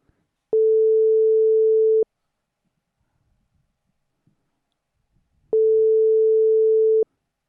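Two long, steady electronic tones sound several seconds apart, each about a second and a half, the repeating beep of an unanswered WhatsApp call with quiet pauses between.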